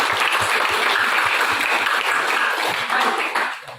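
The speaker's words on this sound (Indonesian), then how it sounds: "Baik, Masya Allah, tepuk tangan dulu." Applause from a class audience, loud, close clapping from a group of people with distinct rhythmic hand claps, sustained and then fading at the end.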